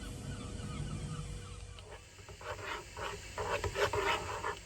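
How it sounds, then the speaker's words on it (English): Outdoor ambience with a low traffic rumble and scattered bird calls and chirps in the middle distance, growing busier toward the end. "you can hear the birds"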